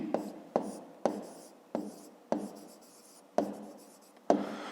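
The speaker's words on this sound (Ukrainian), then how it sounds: "Пишемо промені." A pen writing by hand during a fifth-grade geometry exercise, marked by about eight close, sharp taps, each followed by a short scratchy stroke in an uneven rhythm.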